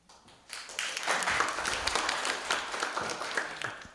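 A live audience applauds during a symposium panel's introductions, a dense wash of many hands clapping that swells after a quiet start and stays loud and steady.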